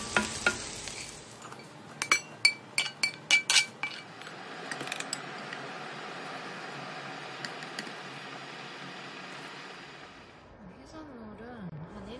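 Stir-fried vegetables, including onion, scooped out of a pan into a large bowl: a burst of sharp metallic clinks and scrapes, then a soft steady rustle and faint sizzle, with a person talking quietly over it.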